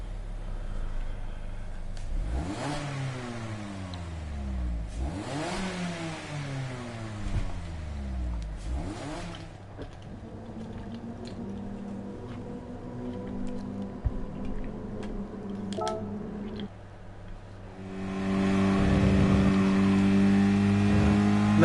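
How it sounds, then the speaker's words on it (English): A Mazda Roadster engine in the Gran Turismo Sport racing game revving hard through repeated rising gear pulls, shifting with sharp drops, then settling into a steady high drone as other cars join in. "Mazda Roadsters Cup Race."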